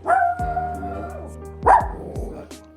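A rescue dog barks in a few sharp, separate bursts at close range, with whimpering yips between the barks and faint background sound.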